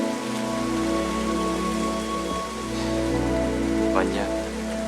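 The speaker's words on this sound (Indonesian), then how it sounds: "Tak peduli dengan derasnya hujan" Heavy rain from a film pours down in a steady, dense wash that lasts the whole stretch, with a faint low rumble beneath and no talking.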